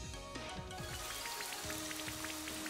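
The Rain Dance move in the video game Pokemon Sword and Shield brings a steady patter of rain, with scattered droplet ticks over a continuous wash, beneath a faint game music tone and without speech.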